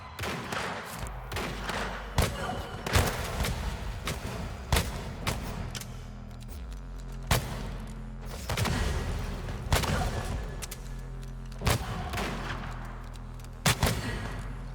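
Pistol shots in the video game Weird West, a series of sharp, punchy reports spread irregularly across the span, some in quick pairs, loud and close over a low rumbling game backdrop.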